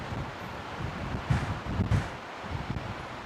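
Wind gusts across an open car park at Brisbane Airport under a roof during stormy weather, a low steady rumble of buffeting with a couple of stronger gusts, no voices.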